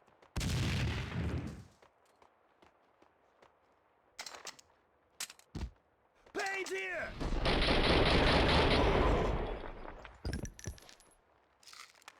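Gunfire in the video game Max Payne 2: The Fall of Max Payne, with loud bursts of shots and clattering, alongside spoken dialogue and other in-game noise, in an action sequence.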